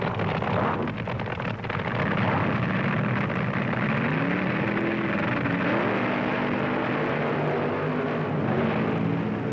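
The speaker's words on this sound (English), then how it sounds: "The funny cars of Gene Snow and John Decker." Loud, continuous roar of 1970s funny car drag racers launching down the strip, engines blaring with rising pitch as the cars accelerate away, steady high volume throughout with no talk.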